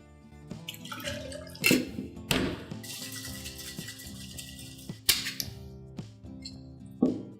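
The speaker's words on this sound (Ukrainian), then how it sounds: "І спочатку роблю сухий шейк." A cocktail being dry shaken in a shaker without ice gives sharp knocks and clatters at irregular intervals, with liquid sloshing in between, close and moderately loud.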